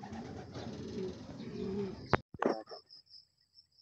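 A racing pigeon back from a training toss from Santo Tomas, La Union, coos in a low, throaty murmur at close range for about two seconds, then a few sharp clatters and faint chirps follow.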